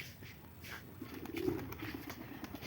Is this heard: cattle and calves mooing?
no